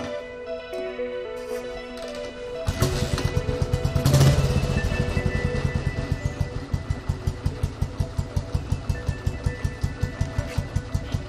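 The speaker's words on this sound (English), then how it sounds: "Now let's check out the sound of the original Made in England silencer." A Royal Enfield motorcycle with an original English-made silencer starts and settles into a steady, thumping idle with evenly spaced exhaust pulses, loud and close, with no talking.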